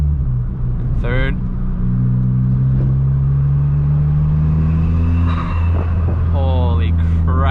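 A widebody big-turbo Ford Fiesta ST revs loudly in a close, constant engine drone with a couple of rising sweeps, while a voice speaks briefly over it.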